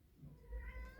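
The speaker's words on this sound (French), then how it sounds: "Je regardais Michel le chat." A cat gives a single faint, drawn-out meow indoors, soft and brief against a low background rumble.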